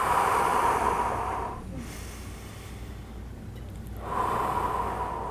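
Breathing during an eye relaxation exercise: a long, soft, airy breath fades out, followed by a quiet pause and then another breath swelling in, close and intimate.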